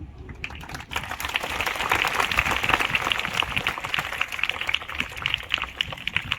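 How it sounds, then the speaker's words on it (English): Sustained applause for students at a school Teachers' Day morning assembly: dense, even crowd clapping that swells after the first second and carries on steadily, loud and close. "big round of applause to all the students"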